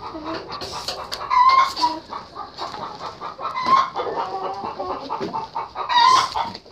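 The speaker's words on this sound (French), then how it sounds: "Donc là, c'est des poules rousses." Red hens clucking nearby in a henhouse, repeated squawks and clucks in bursts with a steady background of softer fowl calls.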